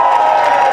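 A crowd at a federal election political rally in Mississauga Malton cheers loudly in a brief, steady burst of voices, close and full.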